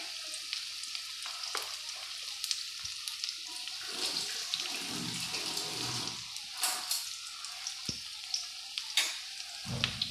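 Jute leaves and curry leaves fry in a wok with a steady broadband sizzle, broken by a few sharp spatters and clattering knocks, with no talking.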